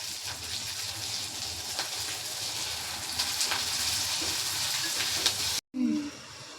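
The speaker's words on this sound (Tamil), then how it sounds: "வெங்காயம் கூட உப்பு போட்டால் சீக்கிரமாக வதங்கிடும்." Onions salted in a pan sauté with a low, steady sizzle and hiss and occasional light stirring, before a brief cut near the end.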